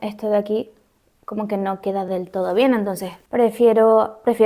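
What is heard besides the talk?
No everyday noises stand out.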